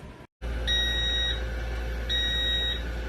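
Two steady electronic beeps from an air fryer, each held for about half a second, with a low hum running underneath.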